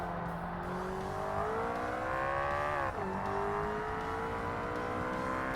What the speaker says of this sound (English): You can feel the turbo kick in.